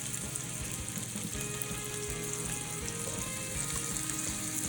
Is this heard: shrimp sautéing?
yes